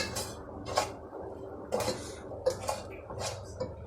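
A spoon stirs and scrapes against a metal bowl while pepper and seasoning are mixed in, giving several clinking strokes at an irregular rhythm, close and fairly quiet, with no talk.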